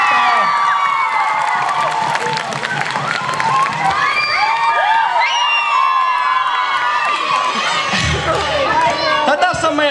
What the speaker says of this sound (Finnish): Annetaan Holsenille vielä kunnon aplodit.